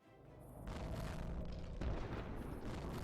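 Booming explosions rumble through a battle scene in the video game Girls Frontline: Isomer, a loud, sustained low roar with a heavier burst near the middle and no voices.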